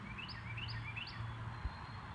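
Small wild bird chirping close by, a series of short high rising tweets repeated in quick succession over a faint low hum.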